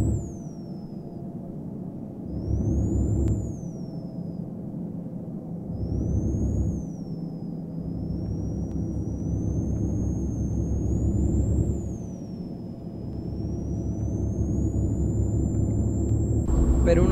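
A double-decker bus engine in Euro Truck Simulator climbing mountain roads in Colombia, a steady low drone that rises and falls with the throttle, alongside a high whining tone.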